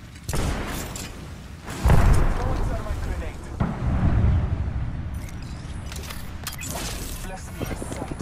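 Thermite grenade and Arc Star blasts in the Apex Legends video game land as loud booming thuds and rumbling bursts, several in quick succession, close and heavy, with a character voice speaking between them.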